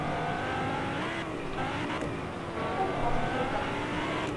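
The Whiplash sports car driving in Fortnite, its engine holding a steady, continuous roar throughout with a slight surge near the end and no talking.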